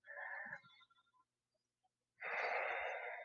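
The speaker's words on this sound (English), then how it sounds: "3 big deep breaths" Deep breathing during a yoga pose, one long exhale, a quiet pause, then another slow audible breath, close and soft.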